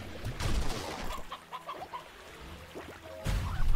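Chickens in the Slime Rancher video game, with several short clucks and bird calls scattered through the middle, moderately close, between louder rustling bursts at the start and end.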